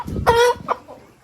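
Roosters on a chicken farm, birds of around 2.5 kilograms, let out a loud nearby cluck and a short crowing call, followed by a softer clucking note.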